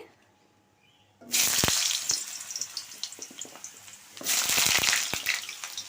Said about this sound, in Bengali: কড়াইতে দেবো তেল সর্ষের তেল দিয়ে দিলাম ওলকপি আর আলুটা ভেজে নিচ্ছি